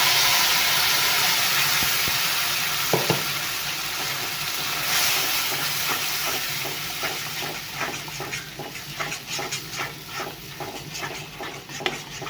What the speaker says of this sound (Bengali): মশলাটা এখন আমি ভালোভাবে কষিয়ে নিব কাঁচা ফ্লেভারটা দেওয়ার জন্য